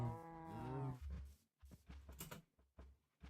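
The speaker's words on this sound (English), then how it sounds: "Hello, cow." A cow in the Minecraft video game lets out a drawn-out, wavering moo at low level, followed by a few soft, scattered game noises and footsteps.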